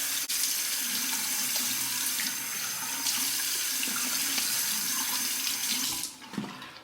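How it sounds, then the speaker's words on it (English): Warm water runs from a tap over a shaving brush, soaking its bristles: a steady close hiss and splash that cuts off abruptly near the end, followed by a few brief wet shakes. "I'm just going to run it under the warm water, soaking all the bristles of the brush and just shaking that out slightly"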